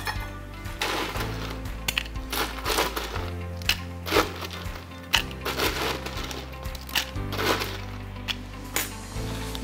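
Six to eight ice cubes dropped into a glass for a club-soda cocktail, giving a run of sharp clinks and cracks over steady background music.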